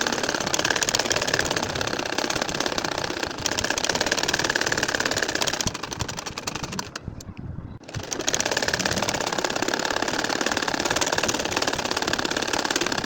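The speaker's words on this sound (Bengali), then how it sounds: "এই যে দেখো এখনও আবার ঘুরিয়ে ঘুরিয়ে আমি সেলাইটা করে নিচ্ছি" A sewing machine stitching lines on a nakshi kantha quilt, running as a loud, fast, continuous mechanical whir that stops briefly for about a second midway, then resumes at the same steady pace.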